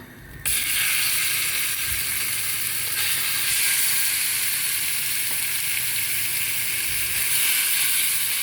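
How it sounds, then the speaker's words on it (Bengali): Chicken sizzles steadily in a hot pan with spray butter, a constant crackling hiss with faint clicks and scrapes of stirring, no voices. "তো চিকেনটা ফ্রাই করার জন্য এখানে আমি একটু স্প্রে বাটা দিয়ে দিব"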